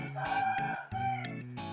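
A young Burmese gamecock crows twice in close succession, loud and near, with no talking around it.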